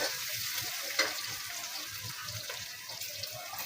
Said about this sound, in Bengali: মরিচ পেঁয়াজ কষানো হয়ে গেছে